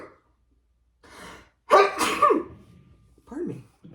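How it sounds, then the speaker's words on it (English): One person sneezes loudly and abruptly, a sharp burst with a breathy wind-up and aftermath, with quieter vocal sounds and breaths before and after it. "Oh, I'm going to have to sneeze."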